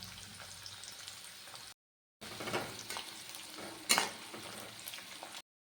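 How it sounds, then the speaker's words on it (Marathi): Chopped onion with ginger-garlic sautéing in a pan for homemade Manchurian, a moderate sizzle broken by a brief silent gap, with stirring scrapes and a louder clatter midway, no voices. "तर यामध्ये आपण जो कांदा चिरून घेतलेला आहे तो मी यामध्ये टाकते. तो आपल्याला छान असा परतून घ्यायचा आहे."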